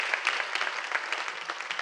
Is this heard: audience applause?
yes